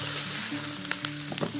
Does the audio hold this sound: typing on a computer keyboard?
no